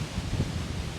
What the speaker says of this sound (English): That's a lot of wind, people.